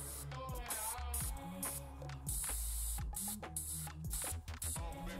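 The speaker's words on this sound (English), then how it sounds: "Using US camo green and some sap green," An airbrush sprays US camo green and sap green paint onto the cloaks of Skitarii miniatures, a steady airy hiss running throughout beneath louder background music.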